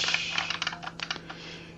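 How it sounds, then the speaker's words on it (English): Rapid typing on an IBM Model M keyboard, its clicky keys clattering in quick irregular bursts at close range over a faint steady hum, with no voices. "I can type on a standard IBM Model M keyboard"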